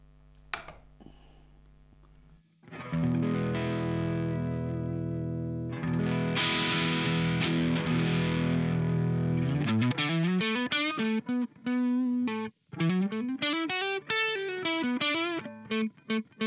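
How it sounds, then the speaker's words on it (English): An electric guitar, a 90s made-in-Japan Jaguar through a Twin Reverb amp and a Voland Rusty Boy overdrive pedal, rings out a sustained crunchy chord, then a run of distorted single notes and phrases, loud and close. "This is their overdrive pedal called the Rusty Boy."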